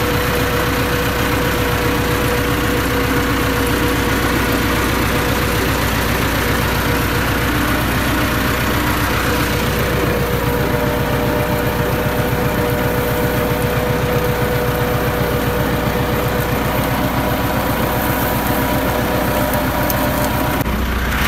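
A farm tractor's diesel engine runs steadily at low speed in a village, moving along on its own with no driver aboard, a loud continuous rumble with regular low pulsing throughout and no talk.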